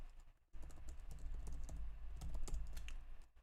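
Rapid typing on a computer keyboard, a steady stream of close, crisp key clicks that starts after a brief pause and continues with no talking.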